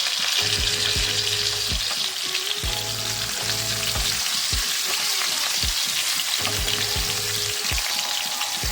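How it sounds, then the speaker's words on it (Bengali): Potatoes fry in a pan with turmeric for a vegetarian Bengali aloo dum, a steady close sizzle with repeated scraping stirs and clatters throughout, no voices. "একটু নেড়ে চেড়ে লাল লাল করে ভেজে নেব আলুগুলো"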